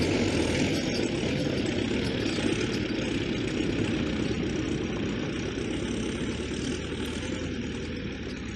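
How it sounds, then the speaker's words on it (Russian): Farm tractors loaded with haylage pulling away in a village field, a steady rumbling diesel drone with continuous engine noise and no voices. "Все, трактора поехали, загрузили сенаж этот"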